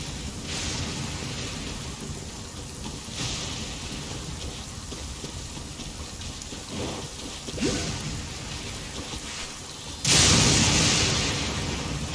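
Steady heavy rain in the video game Genshin Impact, with low rumbles of thunder and a sudden louder downpour near the end. The rain is continuous and close, with no talking.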